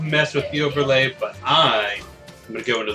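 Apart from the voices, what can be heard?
None of the usual background noises is heard.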